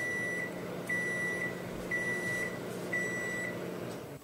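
Microwave oven running as it heats a bar of soap: a steady low hum throughout, with a faint, regularly repeating high tone roughly once a second, and no voices.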